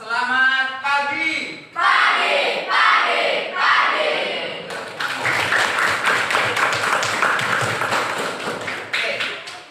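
A classroom audience bursts into clapping applause after a short stretch of group voices, and the sustained clapping continues loudly for several seconds.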